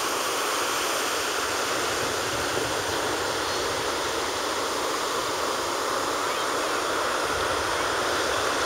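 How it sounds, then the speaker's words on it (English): Ocean waves roll onto the beach at Brigantine, New Jersey, as a loud, continuous roar of surf, steady throughout with no distinct breaks, heard close and alone without voices. "ocean waves always impress me."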